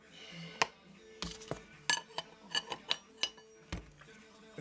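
Metal tools click and clink sharply while a nut is undone on the fork of a Kawasaki KX 85 motorcycle during a fork seal change, giving a dozen or so close, separate taps and ratchet-like ticks.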